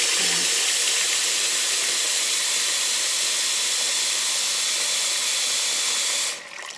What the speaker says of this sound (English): It's just water boiling right now.